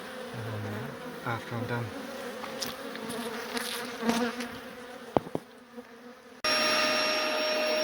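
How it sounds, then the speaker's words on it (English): Bee vacuum with a long hose sucking bees off a garage wall hive outdoors, a steady buzzing drone of bees and suction with sharp knocks, ending in a louder constant vacuum whine; a brief voice speaks. "I had to put the longer hose on the bee vac to start bee vacking bees outside"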